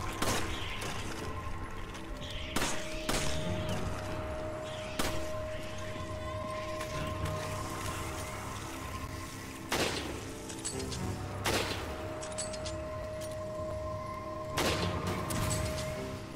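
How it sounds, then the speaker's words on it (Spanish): Rifle gunshots in the video game Resident Evil 5, several sharp loud cracks spaced irregularly over a steady droning game background, with no voices. "tuve que darle 3 balazos de rifle"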